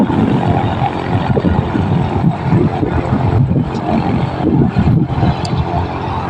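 Both engines of a propeller airplane start and run at Miramichi airport, a loud continuous engine roar with fluctuating throb throughout.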